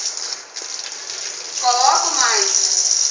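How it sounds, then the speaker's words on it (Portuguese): Tap water runs steadily from an open faucet during surgical-style handwashing with degerming soap, a continuous splashing hiss that swells louder in the second half while someone talks over it. "vai estar aberta a torneira"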